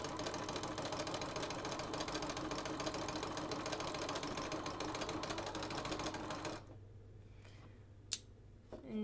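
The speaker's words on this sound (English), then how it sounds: "And we're just going to begin sewing." A sewing machine stitching a quilt border at a quarter-inch seam, a fast, even mechanical rattle running continuously for several seconds before stopping abruptly, followed by a few faint handling clicks.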